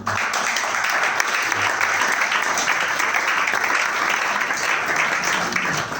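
A church congregation applauds in praise, a dense, steady roar of many hands clapping that fills the room continuously from start to finish.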